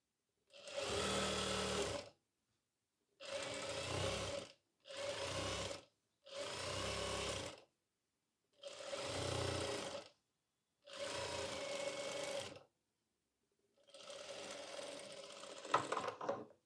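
A sewing machine stitches a seam on ladies' pants in seven separate bursts of fast rhythmic whirring, each lasting one to two seconds, with brief silent pauses between them. The sound is close and moderately quiet, and no one speaks.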